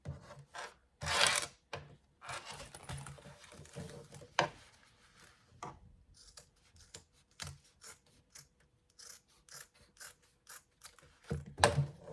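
Scissors snip through the fabric seam allowance of a handbag in short, crisp cuts at an irregular rhythm, close and fairly quiet, with soft rustling of fabric between the snips.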